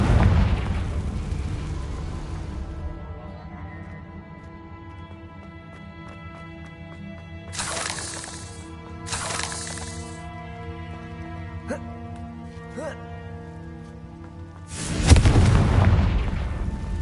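A Confringo fire spell explodes in Hogwarts Legacy: a heavy boom and crackle at the start fade under ambient game music, followed by sharp bursts and another loud blast near the end.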